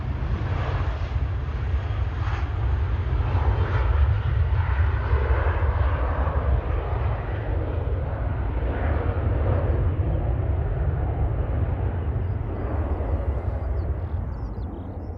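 Jet airliner departing Manchester Airport, a loud, sustained, broad engine roar that holds steady throughout and then slowly thins as the aircraft climbs away.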